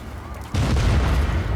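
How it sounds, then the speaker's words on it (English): Explosions tear through a gigantic enemy base in the video game Just Cause 4, a sudden loud booming blast that swells into a sustained, rumbling roar of detonations and crackling debris. "as I go to explode this gigantic base"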